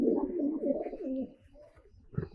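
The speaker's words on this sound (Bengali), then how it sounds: "খুব ছটফটে কবুতর" A male Giribaj pigeon coos in a low, throaty, rolling phrase lasting about a second, close by, followed by a pause and a brief soft rustle at the end.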